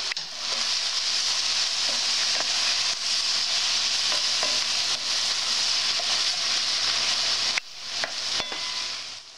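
Creme fraiche sauce bubbles and sizzles steadily in a Sophie Conran pan while a utensil stirs it, with soft scraping taps throughout and a brief pause near the end.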